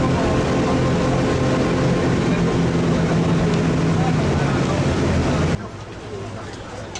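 A local fishing boat's engine roars loud and steady as it races, then drops abruptly to a softer rumble near the end.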